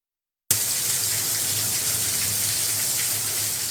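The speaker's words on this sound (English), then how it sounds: "it sure is nice to hear the sound of rain" Heavy rain pouring during a Coastal Bend storm with lightning, a loud, steady broadband hiss of water that starts suddenly after a brief silence and continues unbroken.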